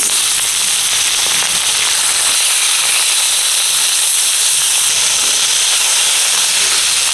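Parshe fish with panch phoron and black cumin sizzling in hot oil, a loud, dense, continuous hiss and crackle close up with no voices.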